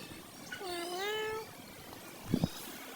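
A cat meows once, a drawn-out wavering cry, followed by a couple of short soft sounds.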